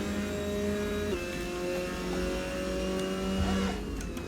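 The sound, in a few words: race car engine in Assetto Corsa video game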